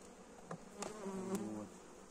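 Honeybees buzz at an apiary hive during an autumn colony inspection, a steady close drone with a few louder passes of individual bees near the ear.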